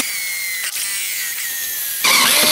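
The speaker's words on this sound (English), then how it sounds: "This composite cladding is actually really hard to drill through and it's messy." Power drill boring holes through composite cladding, a close, steady high-pitched whine with a brief dip, then a harsher, louder grind as the bit cuts in at the end.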